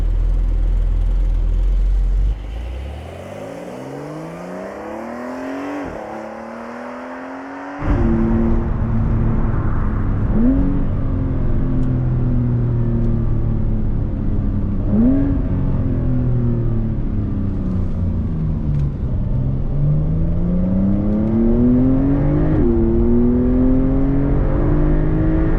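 A Porsche 992 Carrera 4S cabriolet in Sport Plus accelerates hard, the loud engine climbing through several gears with rising pitch and short breaks at each shift, close and unbroken by talk.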